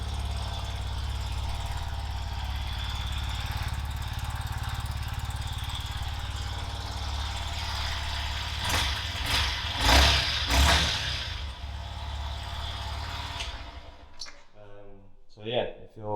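A Yamaha XSR 125 motorcycle idles with a steady, deep close-up rumble, is revved in a few short bursts near the end, then shuts off, leaving faint background sounds.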